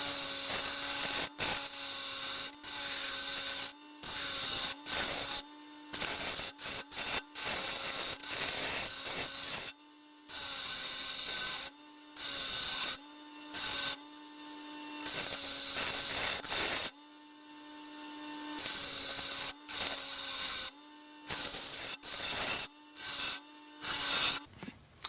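An angle grinder rounds off a steel bottom plate for a DIY plastic injection machine, giving loud, near, high-pitched whining bursts of grinding separated by short pauses over about twenty-five seconds.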